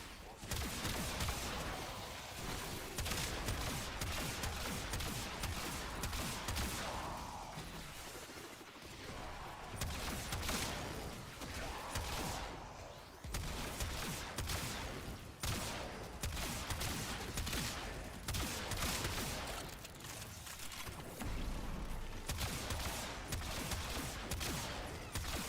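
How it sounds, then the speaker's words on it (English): Rapid gunfire from an unusual weapon in the video game Warframe, a dense, continuous barrage of loud shots and crashing impacts with brief lulls, running steadily throughout. "What a weird weapon. The way this thing shoots is so weird."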